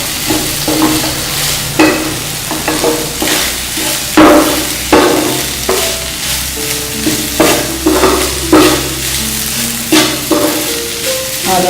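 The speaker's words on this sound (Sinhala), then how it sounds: "දැන් අපි දැල්ලේ මේ ආකාරයට තෙල් වලට කවලා ගන්නවා" Cuttlefish fries in hot oil, giving a loud, steady sizzle broken by regular rhythmic clatters and scrapes of a utensil stirring in the pan, with no talking.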